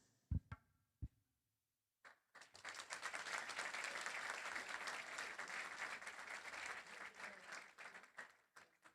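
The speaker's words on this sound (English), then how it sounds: "let's give a warm round of applause for Max and his parents" An audience at a senior class graduation ceremony breaks into warm, sustained applause after a few isolated taps, a thick wash of clapping from many hands that holds steady and then tapers off.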